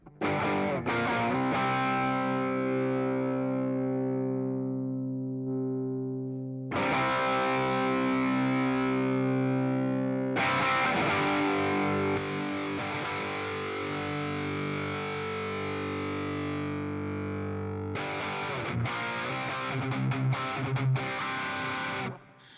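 A distorted electric guitar plays through a Headrush or Tone Master Pro amp modeler, with long sustained saturated chords that ring out, decay, then get restruck several times, loud and alone.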